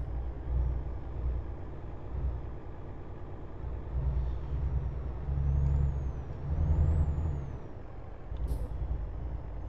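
In the Euro Truck Simulator 2 video game, a truck's air brakes hiss over the steady low rumble of the diesel engine, with swells of noise during braking and a short sharp release near the end.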